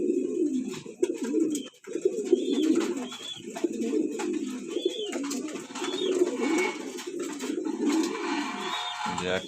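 Several pigeons kept for sale coo steadily in a loft, soft repeated throaty calls overlapping close by, with a few faint higher chirps above them.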